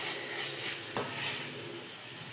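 Onions and tomatoes sauté in a pan for a tamarind kuzhambu, a steady close sizzle with one sharp scrape of a stirring spoon midway.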